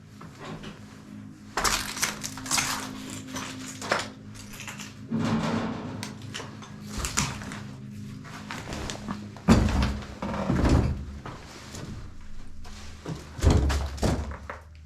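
Thuds and rattling knocks from a stuck door being pushed and pulled in an abandoned cinema, arriving in repeated bursts of banging and scraping close by, with no talk.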